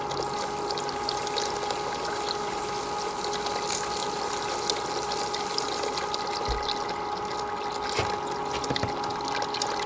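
Water rushes steadily through a GOLDROP 5-gallon bucket system, washing dirt and material through in a constant, loud wash with occasional small knocks.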